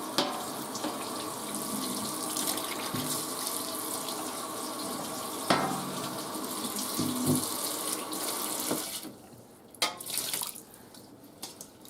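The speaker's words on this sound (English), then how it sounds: "Hot water again." Hot water streams steadily from a kitchen faucet into a sink with a garbage disposal side, a continuous rush with a few clinks and knocks of baking sheets being scrubbed, easing and splashing more unevenly near the end.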